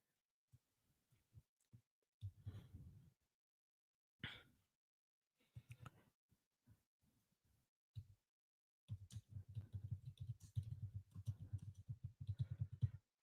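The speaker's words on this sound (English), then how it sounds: "Can you guys hear me typing?" Computer keyboard typing, a rapid run of soft, close clicks and taps in bursts, continuing steadily toward the end.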